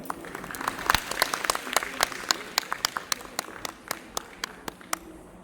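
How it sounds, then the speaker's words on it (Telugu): A seated audience at a Kuchipudi dance event in an auditorium applauds to welcome speakers on stage, a steady wash of clapping with distinct individual claps standing out and gradually thinning toward the end. "మీ అందరి ఘనమైన చప్పట్లతో వారిని వేదికపై ఆహ్వానిద్దాం."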